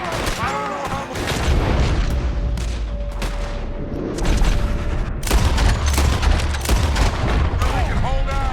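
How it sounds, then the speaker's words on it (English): A shootout in the video game Red Dead Redemption 2 brings dense, loud gunfire: rapid overlapping shots and booms in near-continuous volleys, with voices shouting among the blasts. "Hold them off! Shoot, Arthur!"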